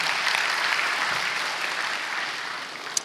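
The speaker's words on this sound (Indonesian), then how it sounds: "Tepuk tangan yang meriah buat dia" Sustained applause from a church congregation during a sermon, a steady dense wash of clapping lasting about three seconds with no talk over it.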